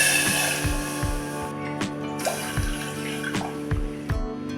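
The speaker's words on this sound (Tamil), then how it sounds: "2 கிளாஸ் தண்ணி ஊற்றிக்கலாம்." Steady stream of water pouring into a metal pressure cooker on the stove, with a low rhythmic thumping underneath throughout.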